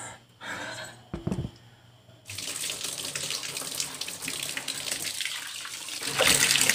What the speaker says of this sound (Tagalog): Okay, kailangan damihan mo siya ng tubig